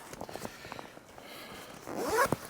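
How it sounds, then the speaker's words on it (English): A zipper on a camera bag being drawn open, a few light rasping pulls building into a louder, closer final zip near the end, with no voices. "So on the front, on the top here, you've got a zipper on the front"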